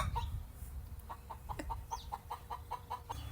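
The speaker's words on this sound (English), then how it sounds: "That's Henny, my very vocal hen." A hen clucks in a quick, steady series of short, bright calls, fairly near, over a low rumbling background.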